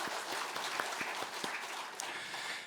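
Applause from a church congregation, a steady, fairly faint patter of many hands clapping together with no talking over it.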